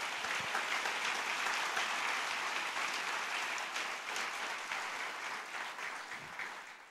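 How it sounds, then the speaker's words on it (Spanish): Loud, sustained applause from a church congregation during a Spanish-language worship service, dense clapping filling the room throughout and tapering only slightly toward the end, with no talk over it. "Denle un aplauso fuerte al Señor."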